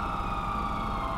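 Steady helicopter rotor drone from GTA 5 hums continuously at moderate level, a droning engine tone with no voices over it.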